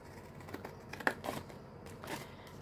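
Scissors snip through a cardboard packaging box in a few quiet, scattered cuts with crisp crunching edges, close by and alone.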